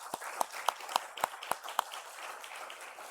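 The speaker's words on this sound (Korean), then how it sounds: "헌물해 주신 분들께 감사의 박수 한번 하겠습니다" A church congregation claps together during Sunday morning worship, giving sharp separate claps in a loose, fairly even rhythm that soon blurs into a soft, steady patter of applause.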